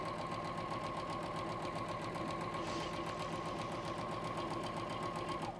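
A sewing machine runs steadily, stitching a quarter-inch seam in one continuous loud whir with a rapid, even mechanical pulse from start to finish and no talking.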